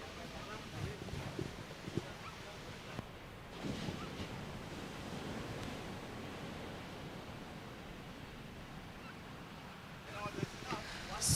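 Ocean waves roll in as a set arrives at a surf and SUP championship on Little Andaman, a broad, steady roar of surf with faint voices in the background.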